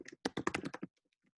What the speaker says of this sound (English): So I could type some code.